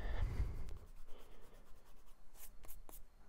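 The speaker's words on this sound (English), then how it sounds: "Let me erase that little mistake over there" Pencil marks on paper are rubbed out with an eraser in a few short, soft scrubbing strokes, quiet and close.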